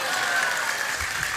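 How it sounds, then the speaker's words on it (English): Round of applause from an audience at a Gita Jayanti gathering, a steady dense wash of clapping filling the short moment with no voices over it. "you can give her a loud Haribol and a round of applause"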